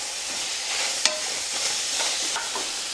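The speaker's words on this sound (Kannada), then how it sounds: "ಹಾಗೆ ಹುರಿ ಹಾಕತ್ತೀನಿ ರೀ." Spices dry-roast in a pan with no oil, a brisk scratchy rustle of stirring over a steady sizzle, with one sharp scrape near the start; no voices.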